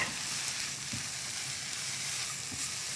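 Sliced onions and thick-cut mushrooms sizzle and fry in a not-too-hot frying pan, a steady close crackle with a few soft stirring knocks, no voices.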